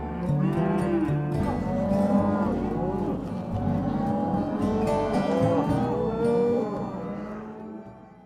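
Many cattle in corrals, cows bawling and mooing continuously, overlapping loud calls from several animals close by that fade out at the end.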